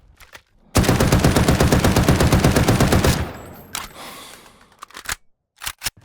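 Sustained automatic fire from a video game weapon, a rapid, evenly spaced stream of loud shots lasting about two seconds, then a fading echoing tail and a few sharp mechanical clicks; no talking.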